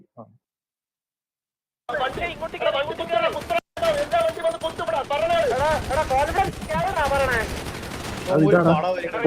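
Bursts of rapid gunfire in an online multiplayer shooter game, mixed with voices talking and reacting over the shooting.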